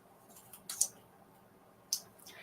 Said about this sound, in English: since this is essentially like a paper tape, I'll be using these cheapy scissors